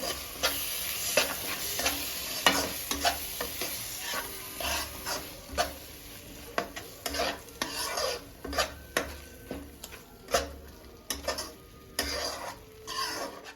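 Cashew and tomato paste stirred into a pan of frying masala for mushroom masala, a steady sizzle broken by repeated scraping spoon strokes, close and fairly loud, with no voices.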